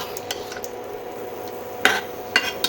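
Mutton and potatoes being stir-fried (kosha) in a pot give a low, steady sizzle, broken by a few close scrapes and knocks of a spoon against the pot.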